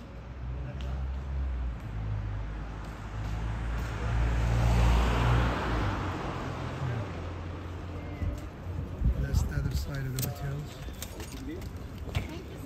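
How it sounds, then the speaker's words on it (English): City bus moving through street traffic in Salzburg, Austria, its engine swelling and rumbling as it passes close by, then fading into lighter traffic noise, with pigeons cooing and some clattering. "It's a bus."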